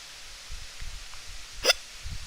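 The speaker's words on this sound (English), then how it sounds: "Now I got hiccups." A single sharp hiccup rises out of a quiet, low rumbling room near the end, close and brief, with soft shuffling around it.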